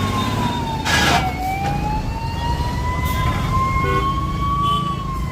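An ambulance siren wails steadily, its pitch slowly rising and sweeping, loud over rumbling traffic noise at a farmers' protest road blockade, with a brief horn-like burst near the start.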